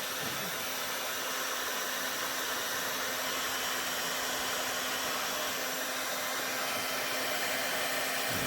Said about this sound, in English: So what I'm going to do now is get my heat gun, let it warm up for a second